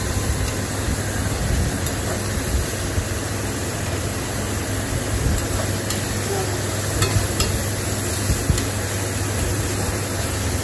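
Onions and vegetables sauté with salt and turmeric in a hot pan for rava kichadi, a steady constant crackling hiss with occasional soft stirring scrapes, close up and uninterrupted.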